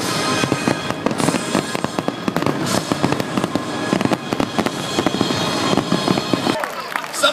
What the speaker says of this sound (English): And let me just say, Lanai does fireworks.